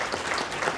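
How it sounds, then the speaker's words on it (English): Steady crowd applause in an event hall, honoring a speaker at a special needs family planning gathering, brief and continuous with no voices standing out. "a huge round of applause to Larry"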